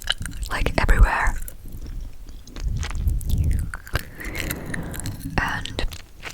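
Chewing gum close to the mic with soft whispered talk throughout, giving sticky, clicky bites and smacks in irregular bursts between and under the hushed voice.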